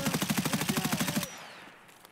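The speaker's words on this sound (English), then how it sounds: "I did hear a gunshot." Rapid automatic gunfire in the video game Escape from Tarkov: a loud, evenly spaced burst of about a dozen shots over a second, then cut off abruptly into a fading tail and quiet ambience.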